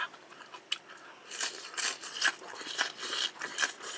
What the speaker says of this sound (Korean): 바삭한 소리부터가 달라.